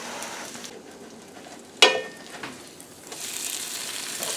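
Zucchini carrot fritters frying in oil in a pan, a steady soft sizzle with one sharp clatter partway through and the frying growing a little louder toward the end.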